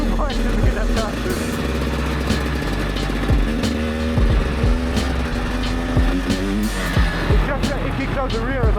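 A 300cc two-stroke motorcycle ridden hard, its engine buzzing and revving continuously with rising and falling pitch, close and loud throughout, with a rider talking over it.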